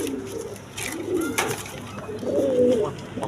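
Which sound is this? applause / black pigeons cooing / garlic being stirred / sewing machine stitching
black pigeons cooing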